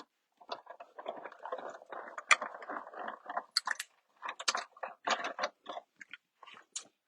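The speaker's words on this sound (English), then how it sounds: "I'm going to run it through my die cut machine super fast" A die cut machine is cranked quickly through a paper crafting project, giving a run of soft, irregular crunching and clicking bursts close up.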